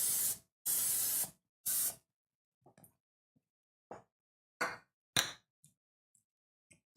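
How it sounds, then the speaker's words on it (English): Oil spray hisses from a can onto marshmallow pans in three short loud bursts, followed by scattered light knocks and taps of the pans and can. "What I like to do is I like to spray them or grease them with a little bit of oil"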